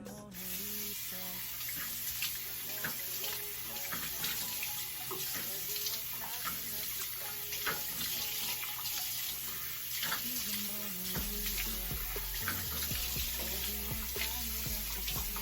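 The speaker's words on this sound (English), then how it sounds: "And I'm just gonna wash off my face." Lukewarm water runs steadily from a sink tap while a face is washed, a continuous close splashing stream with small shifts as hands move through it, lasting the whole time without talk.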